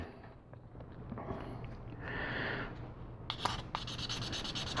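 Steady rubbing and scraping of sandpaper against a small hard plastic model kit part, continuous with a few brief sharper scratches, close by.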